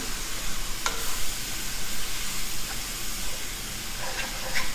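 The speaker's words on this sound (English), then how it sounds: "So we are just sauteing these veggies, trying to get the raw onion, the raw garlic and the raw ginger flavour out" Onion, garlic and ginger sauté in a pan for Asian dumplings, with a steady, dense sizzle and hiss throughout and a few faint clinks of stirring.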